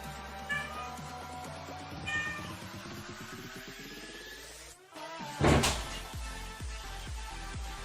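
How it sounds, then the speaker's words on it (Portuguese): A cat meows twice, near and fairly loud, over a steady electronic hum with a sharp clatter partway through. "Ei, meu gato tá aprontando."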